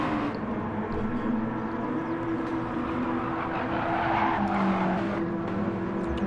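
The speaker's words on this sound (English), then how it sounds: "A lot of these cars squealing their tires going into turn number 12" Mazda MX-5 Cup race cars lapping Lago Maggiore in a racing video game squeal their tires into a turn, a continuous screech layered over steady engine drone for the whole stretch, with no talk.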